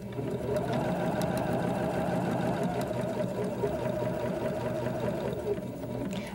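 A sewing machine bastes around the edges of heirloom lace, running in a steady, continuous close whir with a fast, even mechanical rhythm, with faint talk in the background.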